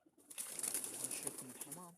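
Pigeons coo softly in a low, throaty rolling call, fairly close but faint, with light rustling around them.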